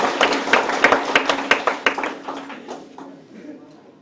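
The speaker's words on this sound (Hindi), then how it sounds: "चलिए तालियां बजा लीजिए।" A group claps in a quick rhythmic burst at a youth gathering, sharp close claps that thin out and fade over the last second.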